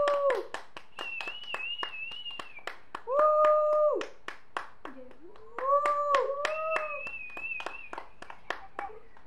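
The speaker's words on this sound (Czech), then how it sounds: "Prosím o potlesk na vítězství Dračí dráp." A few people clap in a steady patter of sharp, closely spaced hand claps, celebrating a win called Dračí dráp. Sliding electronic tones and jingles play over the clapping for about nine seconds.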